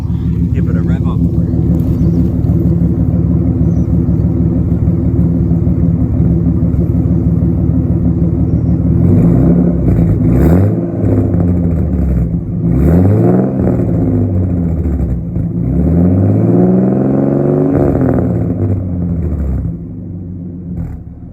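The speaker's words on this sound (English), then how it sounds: "Revving it to about 3 grand, so that's about halfway up the speedo." A car engine with a burbly exhaust is revved to about 3000 rpm in repeated loud, rising and falling swells over a steady idle, close by.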